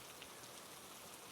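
Steady rain falls evenly in a constant dense hiss of drops, quiet and unbroken, with no other sounds.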